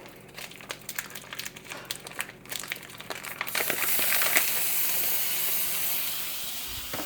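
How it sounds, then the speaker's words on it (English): Three pounds of lean ground beef sizzling in a pan for cowboy potatoes; a steady close hiss with crackle that swells and stays loud after the meat goes in. "So we can go ahead and add our ground beef to our pan here"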